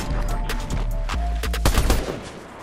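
Rapid bursts of gunfire in Fortnite Zero Build, several shots cracking in a quick, uneven sequence over a steady game soundtrack, loud and close.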